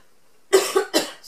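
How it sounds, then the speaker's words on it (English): A single person coughs up close, two or three quick harsh bursts after a moment of near silence, with no talk around them. "I'm going to have to cough."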